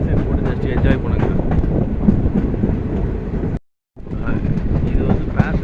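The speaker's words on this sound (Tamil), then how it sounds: "ஆனால் ட்ராக் சவுண்டு வந்து பயங்கரமாக கேட்குது." An unreserved express train runs along the Konkan route with a loud, steady rumble and rattling clickety-clack of the track, heard from inside the coach and broken by a brief silent gap.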